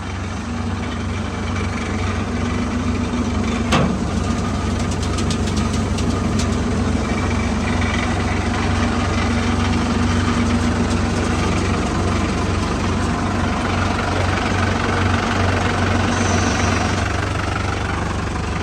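Toyota 115 engine idling steadily, a continuous low rumble with a faint knocking texture, close and loud and unbroken, with a brief click near the start and no talking.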